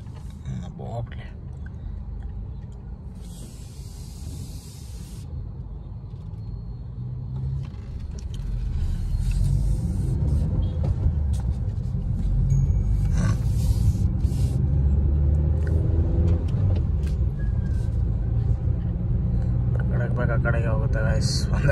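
A car drives along a ring road, its engine and tyre noise forming a continuous low rumble heard from inside the cabin, growing slightly heavier partway through as the car picks up speed.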